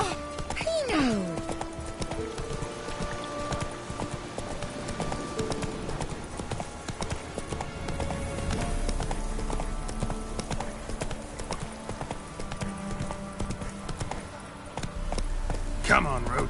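The horse Roach trots in The Witcher 3, hooves clip-clopping in a steady rhythm across the ground, close and clear under in-game music and occasional character speech.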